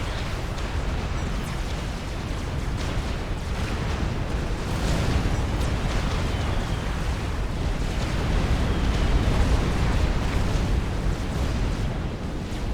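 Scorcher bombers rain fire on T1 artillery in the strategy game Supreme Commander Forged Alliance, producing a constant rumbling roar of overlapping explosions and burning bursts with no voices.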